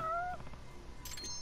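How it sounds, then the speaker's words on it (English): A cat in the video game Judgment gives a short, close meow, a brief plaintive call that is heard alone and fades away quickly. "It's a cat."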